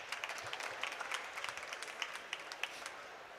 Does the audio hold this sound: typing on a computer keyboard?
no